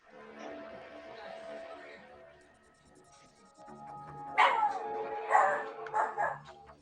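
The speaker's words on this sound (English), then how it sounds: "I hear a chihuahua." A chihuahua yaps a few times in quick bursts, moderately close, following a stretch of steady electronic tones and low background chatter from people in the room.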